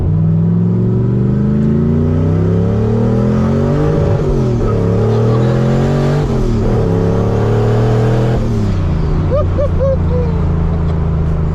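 A turbocharged Ford Mustang Fox Body notchback with a 302 V8 accelerates hard. The loud engine note climbs and surges through the gears up close and dominates the clip.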